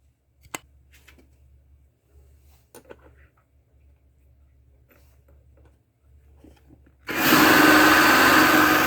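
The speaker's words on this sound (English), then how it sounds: "I'm going to try out this mini grinder for the first time." A mini grinder power tool whirs up suddenly and runs loud and steady after a long stretch of near silence with faint scattered clicks.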